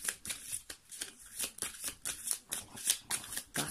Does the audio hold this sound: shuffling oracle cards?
yes